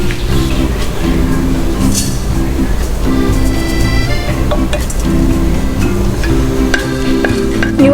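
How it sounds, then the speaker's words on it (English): Coriander seeds and cumin dry-roasting and being stirred in a pan for panang curry paste, a steady clattering, scraping sizzle with a low rhythmic rumble underneath, close and fairly loud throughout. "First step, roast coriander seeds and cumin."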